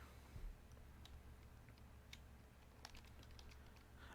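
Quiet typing on a computer keyboard during a game session: scattered light key clicks in small irregular clusters, close but faint, with no voices.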